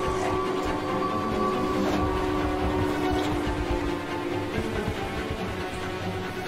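A train in the horror video game Choo-Choo Charles rumbles steadily with a sustained tonal horn-like drone, loud and continuous with no talk.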